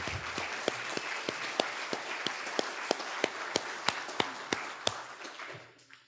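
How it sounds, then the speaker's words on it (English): Audience applause at a 2024 annual meeting, a moderate rattle of clapping with a few sharp, regularly spaced individual claps standing out, fading away at the end. "help me in giving John a round of applause for all of his work"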